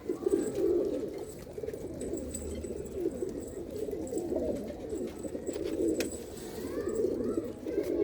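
Pigeons kept on a house roof, including a well-bred female, coo in a constant low rolling chorus, with a few fainter higher chirps and a soft background hum.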